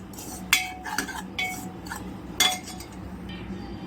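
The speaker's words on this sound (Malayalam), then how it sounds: "എന്നിട്ട് ഇതൊക്കെ നല്ലോണം ഇളക്കി കൊടുക്കാം." Metal spoon clinking and scraping against a pan while masala and chili powder are stirred for veg pulao, a handful of sharp clinks at irregular intervals over a faint background.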